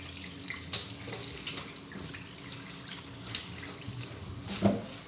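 Ginger and lemon are rinsed under a running kitchen tap, a soft steady stream of water with splashes and a few drips, close and fairly quiet, with no talk.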